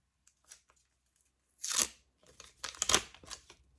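Crinkly plastic packaging is torn open in a few quick, close rips, with scattered rustles in between.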